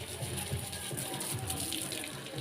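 Tap water gushes in a steady, loud, continuous stream for watering garden plants, filling the whole moment with no voices over it.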